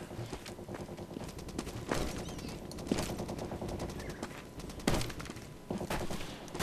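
Gunfire from the World War II dinosaur shooter game Dino D-Day, dense and continuous automatic fire with several louder bursts standing out, heard on its own with no talking.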